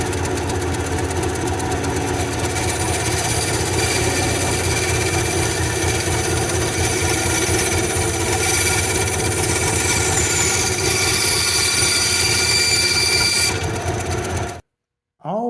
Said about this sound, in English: We're going to go ahead and cut this off with the bandsaw.